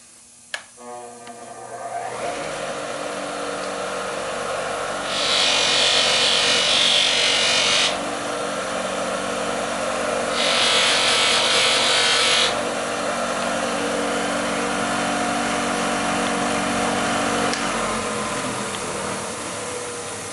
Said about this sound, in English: especially with it being a cutting wheel and not really technically a polishing wheel